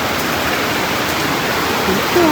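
Heavy rainwater pours off house roofs during a hailstorm in Manali, a loud, steady broadband rush like a waterfall that fills the whole moment without letting up.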